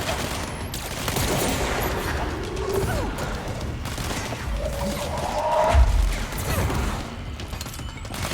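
Rapid gunfire from the video game Control, dense bursts and mechanical clatter layered over a busy, loud game soundscape with a heavier impact near the end.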